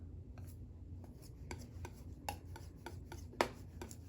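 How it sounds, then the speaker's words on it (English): A palette knife scraping and spreading lamp black and Van Dyke brown paint thin across a palette: quiet, repeated rasping strokes at an uneven rhythm, heard alone and close up. "Mix that on the palette. Roll it out nice and thin."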